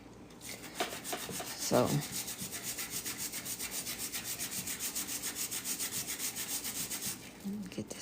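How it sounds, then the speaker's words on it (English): Black walnuts scrubbed by hand to strip off their husks, giving a fast, steady rhythmic rubbing close up, with a brief spoken word near the start. "I'm really scrubbing here."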